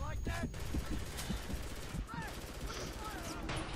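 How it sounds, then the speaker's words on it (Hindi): Rapid gunfire in the PC shooter Frontlines: Fuel of War as a sniper fires, with sharp cracks and bursts of shots on a busy graveyard battlefield, fairly close and layered over constant combat noise. "देखो इसने बुलेट मारी।"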